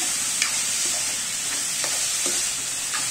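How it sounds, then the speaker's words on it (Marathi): Sprouted moth beans (matki) fry in a hot pan with a steady broadband sizzle, while a few sharp scrapes of stirring punctuate it at irregular intervals; no voices. "परतून घ्यायची, खालीवर करून घ्यायची तिला मटकीला चांगली फ्राय झाली"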